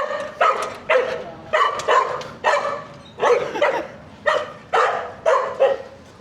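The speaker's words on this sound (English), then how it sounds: "Dog sat locked in the car there. He's not happy." A dog shut inside a parked car barks over and over, around a dozen sharp, fairly close barks in an uneven rhythm with short gaps between them, slightly muffled and occasionally edging into yips.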